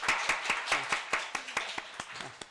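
A church congregation at a Sunday morning service claps in a steady, fairly even rhythm of sharp hand claps that carry through a modest room, without talk over it.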